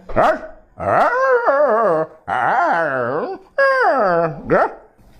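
A person's voice imitates a dog with a series of drawn-out howling, whining cries, four or five loud calls separated by brief pauses.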